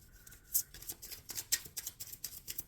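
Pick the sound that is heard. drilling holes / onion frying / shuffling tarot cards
shuffling tarot cards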